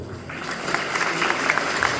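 Audience clapping at an event held for children on Disability Day, a short burst of steady, moderately loud scattered applause from a crowd.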